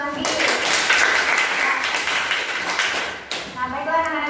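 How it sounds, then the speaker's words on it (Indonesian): Classroom of students clapping for a classmate, a lively burst of applause filling most of the moment, with a teacher's voice speaking over it near the end. "tepuk tangan untuk Anggi."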